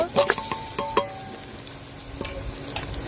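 Marinated beef dropped into hot oil with fried onions in a pressure cooker, sizzling loudly while a utensil scrapes and stirs in several sharp strokes up close, then settling into a steady crackle.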